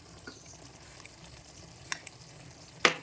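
Mustard seeds, four tablespoons, dry roasting in a pan for tomato pickle, a faint steady sizzle and rustle with a couple of sharp clinks or seed pops, close and quiet.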